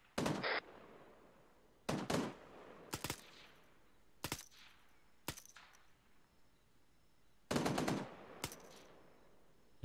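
Gunfire in the military video game Arma 3 comes as sharp bursts of automatic fire and single shots, loud and spread out with quiet gaps between the volleys.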